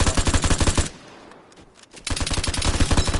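Rapid automatic gunfire from a weapon in the survival shooter Vigor rattles loudly in two sustained bursts, separated by a roughly one-second lull of quieter ambient game sound.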